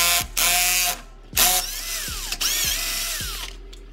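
A power tool on a Dodge Charger, removing the heat shield bolt: several short whirring, ratcheting bursts separated by brief pauses, close and fairly loud with no talking.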